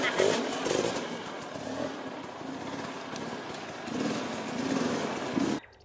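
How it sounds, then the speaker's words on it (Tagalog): Yamaha XTZ 125 motorcycle engine running during wheelie practice, a steady loud droning rumble with slight rises in revs, close by, with talk over it before it cuts off. "So, magpa-practice tayo ng wheelie."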